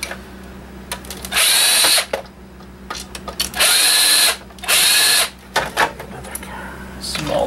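A power drill whirs in three sustained bursts, backing out the two small screws that hold the hard drive inside a video game console, with someone talking briefly between the bursts and some clicking handling noise.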